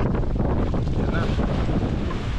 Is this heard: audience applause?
no